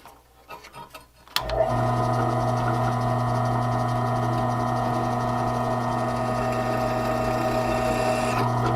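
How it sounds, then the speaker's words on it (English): A power drill bores bolt holes into the trunk of a Nissan 350Z for mounting a budget GT wing, running as a steady, loud, continuous whir after a few brief knocks at the start. "Now we're going to drill the holes for our bolts to mount it to the trunk."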